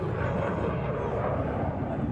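A Tejas jet flying a demonstration at the Dubai Airshow 2025 gives a steady, loud, broadband roar that holds without a break through the whole short stretch.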